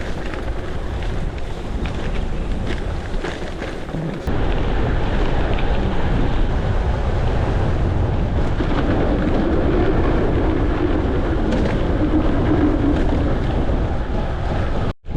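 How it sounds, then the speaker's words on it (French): Strong headwind roars into the microphone while riding a gravel bike, a loud, continuous buffeting rumble that swells even heavier after the first few seconds and carries on without a break. "Se tape un bon vent de face."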